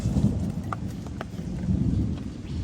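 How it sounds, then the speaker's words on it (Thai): A low, continuous thunder rumble rolls beneath steady rain, with occasional light ticks and drops on top. "ฟ้าร้องไม่หยุดเลยนะครับ"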